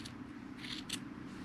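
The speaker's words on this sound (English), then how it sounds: "And I will cut through all those loops." Scissors snip through yarn loops wrapped around a toilet paper tube, with two or three quiet crisp cuts over a soft background hum.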